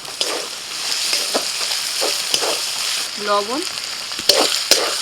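Chopped tomato frying with onion, ginger and garlic in a pan: a steady, fairly loud sizzle runs throughout, with scattered stirring clicks and scrapes and a voice speaking briefly over it.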